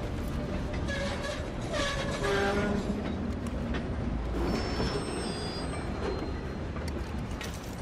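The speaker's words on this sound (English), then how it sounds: "Stop this train." A steam train in the Red Dead Redemption 2 video game rumbles along with a steady rolling roar and clattering wheels, while a brief horn tone sounds partway through, all close and loud.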